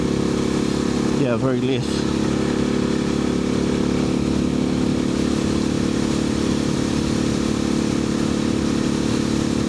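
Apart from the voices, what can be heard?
KTM 690 SMC motorcycle riding, Arrow exhaust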